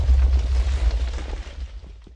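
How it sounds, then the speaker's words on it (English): A Minecraft explosion gives a deep, loud rumbling boom that fades and thins out over about two seconds, with no talking. "It finished exploding."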